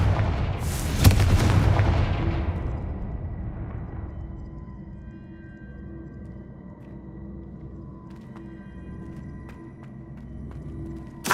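Confringo fire spell blasts in the Hogwarts Legacy video game: a loud booming burst near the start that decays into a lingering rumble and crackle, with a few sharp smaller pops later.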